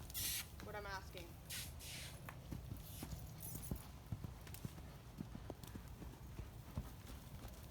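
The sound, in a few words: horse hooves clip-clopping during training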